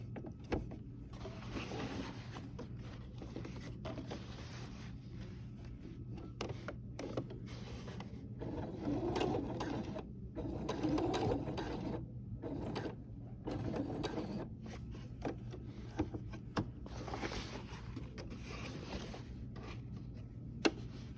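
Sewing machine stitching a crossbody bag strap, a steady mechanical whir with a low constant hum running throughout, rising slightly in the middle, with no talking.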